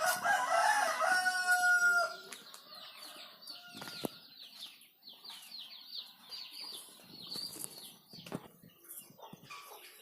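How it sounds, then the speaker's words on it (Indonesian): Chickens and a rooster in a family farm coop crow loudly at the start, followed by scattered clucks, wing flaps and movement continuing at moderate level throughout. "Ayamnya ada berapa kan?"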